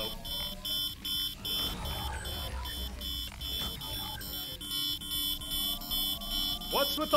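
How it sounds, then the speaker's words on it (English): Rapid electronic alarm beeping inside a Minecraft sci-fi adventure map, with drones attacking as a ship self-destructs; a continuous, loud, steady high pulsing runs throughout, mixed with game explosions and rumbling effects. "What's with all the beeping?"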